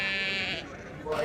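Sheep bleating at the Royal Highland Show livestock event, a short, close wavering bleat with faint background noise.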